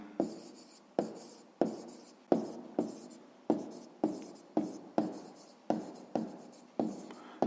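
A pen writes a math solution by hand on paper in about a dozen quick scratchy strokes, each starting with a tap and trailing off, close and quiet with no talk.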